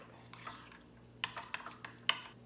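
Roasted corn and sautéed vegetables are tossed with cilantro and lime juice in a bowl. Quiet scraping leads into a few distinct clinks of a utensil against the dish, and no voices are heard.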